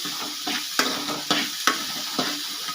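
Vegetables sauté in a hot pan for idli sambar, a steady oil sizzle broken by several sharp spatula scrapes and stirring clacks at an even pace, close and clear.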